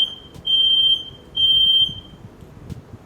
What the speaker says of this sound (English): my smoke alarm is going out and it's in need of batteries, so it just keeps doing like these random beeps